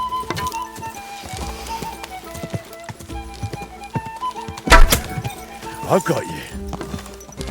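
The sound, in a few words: horse in video game Kingdom Come Deliverance 2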